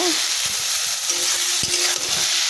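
Katla fish head sautéing in hot oil gives a steady, close sizzle that runs the whole time, with soft stirring scrapes and clinks in the pan and no talking.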